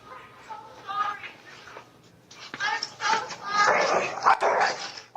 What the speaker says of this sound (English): Video footage appears of a dog chasing Derek.